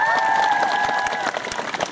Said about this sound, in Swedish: Stor applåd!